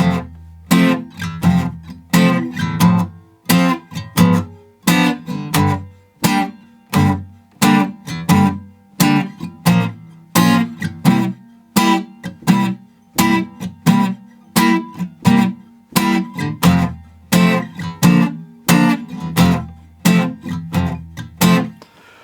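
An acoustic guitar plays the chorus of a song in a steady rhythm of evenly spaced, punchy chord strums that carry on without a break, close and alone.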